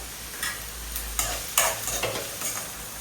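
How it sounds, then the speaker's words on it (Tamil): Fennel seeds, tomato and onion frying together in hot oil make a close, continuous sizzle, broken by several scraping stirs of a spoon against the pan, with no voices. "சோம்பு போட்டுட்டு தக்காளி வெங்காயம் மொத்தம் ஒன்றா போட்டேன்"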